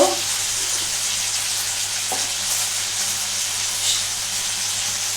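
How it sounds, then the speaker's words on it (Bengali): Barbecue chicken seasoned with black pepper being stirred in a hot pan, giving a steady close sizzle of frying with a couple of soft scraping stirs, no voices. "এটাকে একটু ভালো করে নাড়াতে হবে।"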